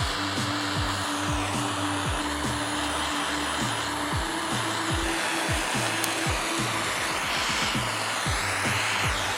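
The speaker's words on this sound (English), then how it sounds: "I'm gonna heat that up." A heat gun blows steadily on broken plastic around a trapped bolt, a constant loud airy roar with a droning hum that runs through the whole stretch without talk.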